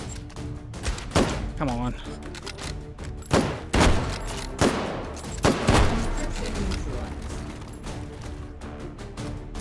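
Several sharp gunshots from a rifle-caliber gun in the VR shooter H3VR ring out at irregular intervals, loud and close, while someone talks over them.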